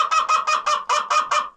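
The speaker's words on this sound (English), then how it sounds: "supposed to be a big chicken, but she's just a little bantam" A small bantam hen gives a rapid run of about eight loud, close honking clucks in a steady rhythm, alone with no talk.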